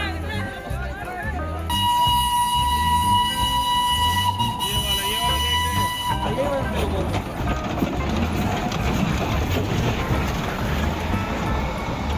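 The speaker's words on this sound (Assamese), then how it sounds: "এইখন কয়লা ইঞ্জিনৰ টয় ট্ৰেইন" Coal-fired steam toy train running in Darjeeling, a loud rhythmic chugging and rumble with a sustained whistle, close by, with voices talking over it.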